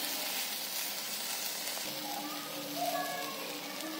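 Vegetable paratha frying on a stove as the flame is lowered, a soft steady sizzle heard close with faint voice-like tones in the background.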